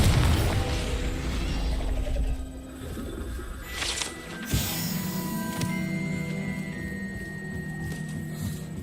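The explosive Confringo spell goes off in Hogwarts Legacy: a booming blast over a dense layer of game effects and tones, with several softer impacts following. No one speaks.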